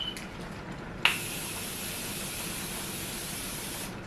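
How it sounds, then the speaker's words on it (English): A single sharp click leads into a steady, airy hiss of Morphe makeup setting spray misting onto a face for about three seconds, close and fairly quiet. "So I'm going to spray my face with Morphe."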